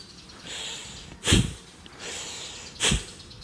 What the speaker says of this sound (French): j'ai accentué les mouvements de l'expiration avec des mouvements beaucoup plus dynamiques